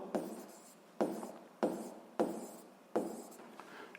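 Pen writing on paper while working a physics exercise: five distinct scratchy strokes, each starting with a sharp onset and trailing off, close and quiet with no talk.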